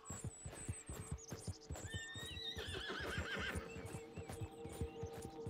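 In Red Dead Redemption 2 Online, a horse's hooves clip-clop in a steady rhythm while it lets out a long, wavering neigh partway through, close and clear above a soft background hum.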